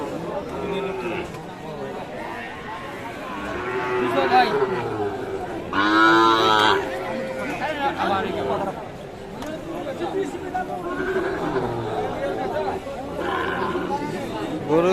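Sahiwal bull calves and other cattle at a busy livestock market let out a few low moos amid constant crowd chatter and nearby talking.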